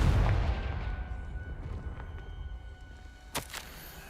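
A Confringo spell explosion in the video game Hogwarts Legacy: a rumbling low blast at the start decays into a noisy tail, then a sharper crackling burst lands near the end.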